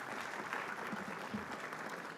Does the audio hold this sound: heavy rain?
no